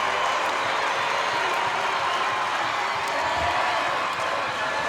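Arena crowd at an Ohio girls' high school state volleyball championship, a steady wash of cheering and applause holding at a constant level throughout.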